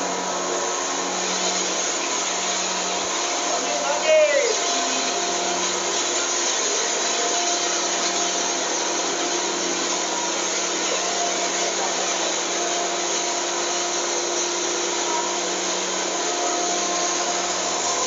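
A grinding machine processes coarse animal feed with a steady, continuous mechanical whir and hum that holds level throughout, with a brief scraping squeal near the start and no speech.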